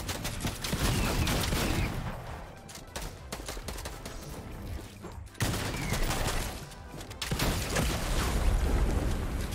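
Dense Fortnite gunfire and rocket launcher blasts go off nearly nonstop, with rapid shots and heavy booming bursts that continue, brief quieter gaps aside, across the whole stretch.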